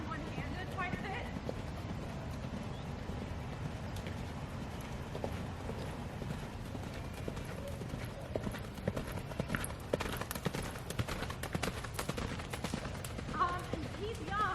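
Steady clip-clop of a young horse loping under a rider, hoofbeats repeating in a quick rolling rhythm over a continuous low rumble of movement, fairly close and moderately loud throughout.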